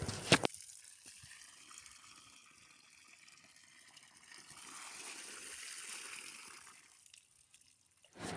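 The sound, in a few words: water flowing out of a borewell iron pipe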